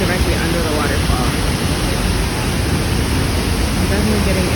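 A waterfall in Bali pouring into a pool, a dense, constant roar of rushing water heard close up and loud throughout.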